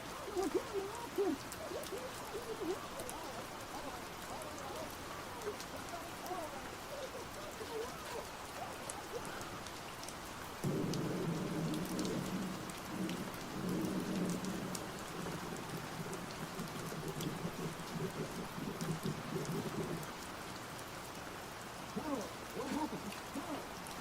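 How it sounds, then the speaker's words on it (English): Steady rain pattering in a Fallout game ambience, a continuous soft hiss on surfaces with a low rumble of distant thunder rolling through the middle, under muffled background voices. "What's that thunder?"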